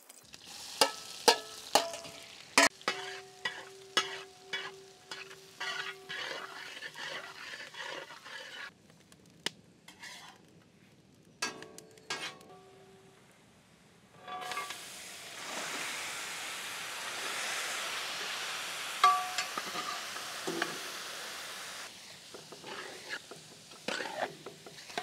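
Green chillies and onion frying in groundnut oil in an outdoor village kitchen: sharp spoon clicks against the pan at first, then a steady broad sizzle building up, with a voice briefly.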